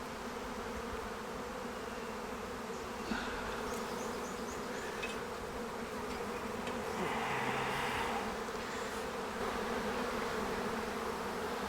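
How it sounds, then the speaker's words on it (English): A steady, dense buzzing of a swarm of bees fills the whole stretch, continuous and fairly close, with a few brief louder passes and faint thumps. "I've already got a few bees landing on there"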